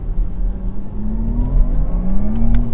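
A Porsche Taycan GTS Sport Turismo electric car in Sport Plus mode emits a synthetic engine-like tone from the rear that slowly climbs in pitch over a low rumble, moderately loud and without speech.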